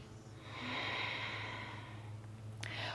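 Steady breathing during a vinyasa yoga flow, a long soft airy exhale swelling and easing over a few seconds, close and alone with no talk, followed by a brief sharp intake near the end.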